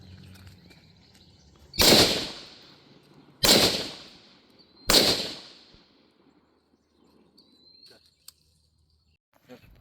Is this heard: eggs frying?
no